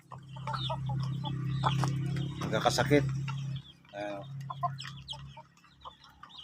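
Backyard chickens kept instead of pigs cluck and squawk at close range, a busy flock sound running through the whole stretch, with someone talking over them.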